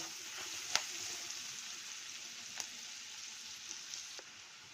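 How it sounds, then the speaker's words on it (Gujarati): Finely chopped onion fries in hot oil, a faint, even sizzle broken by a few soft ticks and pops, with no one speaking. "હવે આપણે નાખીશું એક ડુંગળી, એને મેં ઝીણી ઝીણી સુધારેલી છે। એને આપણે તેલમાં ગોલ્ડન બ્રાઉન કલરની શેકી લઈએ।"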